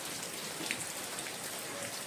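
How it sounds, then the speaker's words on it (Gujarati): Heavy rain pours down in a steady, even hiss with scattered close drops pattering on surfaces, no voices heard. "બહુ વરસાદ આવે છે"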